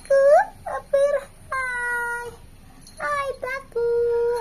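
A cat meows repeatedly, a series of loud, drawn-out, whiny calls close by, some short and some stretched, with small gaps between them.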